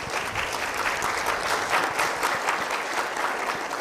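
Full audience applause at a fall university convocation, a dense, steady wash of many hands clapping that holds at an even level throughout, with no voice rising above it.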